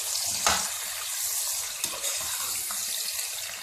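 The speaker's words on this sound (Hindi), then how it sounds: "अब इसमें हम टमाटर और मिर्चें डाल देते हैं इसमें" Tomatoes and chilies hit hot oil with golden-fried onions in a pan for matar pulao, setting off a steady, close sizzle with a sharper crackle as they land.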